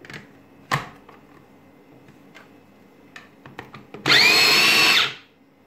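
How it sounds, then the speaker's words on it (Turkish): A food processor grinding dried red peppers over some tomato for homemade tarhana: a few soft clicks and knocks, then the motor kicks in loudly and whirs steadily for about a second before stopping. "Şimdi de kırmızı biberlerimizi çekelim. Robotumuzdan iyice geçirelim."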